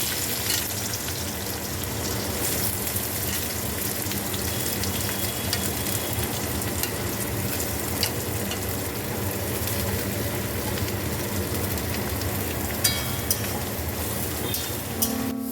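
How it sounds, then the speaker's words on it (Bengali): Onion frying in a pan for a Bengali dried loitta fish chorchori, a steady continuous sizzle with crackling that holds at an even level throughout, with no talking. "এই যে পেঁয়াজটা আমি এখন ভেজে নেব।"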